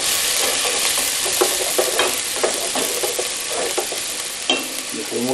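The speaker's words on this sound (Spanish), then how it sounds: "en nuestra olla calentamos nuestro aceite, echamos nuestra cebolla" Onion frying in hot oil in a pot for a spinach stew, a loud, bright, continuous sizzle with regular clattering strokes of a spoon stirring close by.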